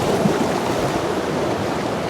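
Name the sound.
sea water splashing through rocks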